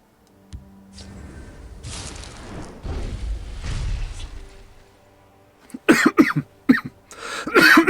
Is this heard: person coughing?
yes